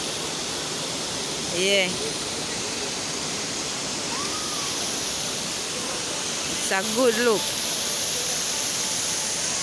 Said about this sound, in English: Water come from way up the stream up there, so come straight back down.